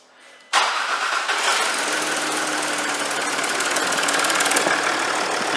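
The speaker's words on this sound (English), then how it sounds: "we're going to start the engine and see if it explodes or works" A Land Rover Discovery 4 with a 3.0L SDV6 diesel engine cranks and fires abruptly after a quiet moment, then settles into a loud, steady, slightly clattery diesel idle nearby.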